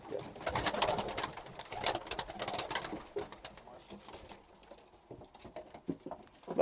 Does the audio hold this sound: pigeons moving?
yes